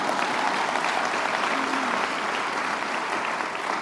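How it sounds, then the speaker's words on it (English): An audience at a groundbreaking event applauds in a continuous, even wash of clapping that lasts the whole stretch, heard from a distance. "I heard applause."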